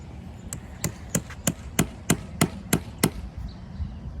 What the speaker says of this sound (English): You get your nail. Hammer. So I'm going to attach the counter to this telephone pole.